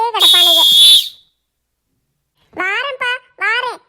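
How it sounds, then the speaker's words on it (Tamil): A small whistle is blown in a sharp, shrill blast, followed after a pause by a few shorter high-pitched toots, loud and close. "இந்த விசில் ஒண்ணு கிடைச்சிருக்கு,"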